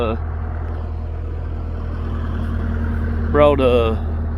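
Skid steer fitted with a tooth bucket, engine idling in a steady low drone throughout, with someone talking briefly over it near the end.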